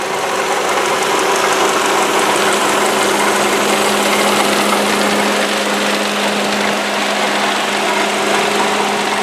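A 2007 Ford Focus SES with a 2.0 liter four-cylinder engine runs steadily at idle, a loud, close, even hum with a faint rhythmic knock and no voices.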